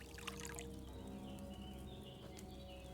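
Liquid pours into a cauldron in the medieval video game Kingdom Come: Deliverance II, a steady trickle with faint splashes running through the whole moment over a low, continuous game background hum.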